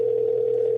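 Steady telephone tone, a single continuous electronic pitch held without a break through the short stretch, fairly loud, with no voices.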